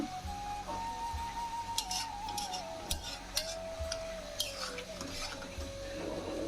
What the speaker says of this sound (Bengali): ধনিয়া পাতা দিয়ে ভালোভাবে আমি ফুটিয়ে নিচ্ছি একটু নাড়াচাড়া দিয়ে আমি নামিয়ে ফেলব